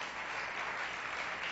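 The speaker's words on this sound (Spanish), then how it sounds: "Yo le invito a que usted una vez le dé un fuerte aplauso a nuestro Dios." A church congregation claps together in a continuous, even wash of applause, moderately distant and steady for a brief moment, with no clear voices above it.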